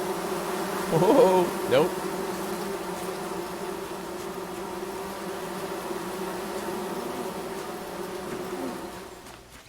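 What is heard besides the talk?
bees buzzing in video game Among Trees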